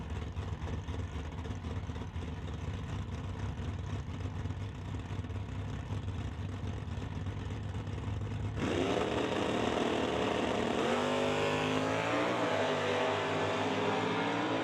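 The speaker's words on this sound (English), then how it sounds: "We'll see if the old reliable Dodge can run down the Camaro." Drag racing cars, a Dodge against a Camaro at an NHRA Summit ET series race, rumble loudly on the strip. The engine roar then jumps into a harder, rising acceleration that climbs in pitch as they launch down the track.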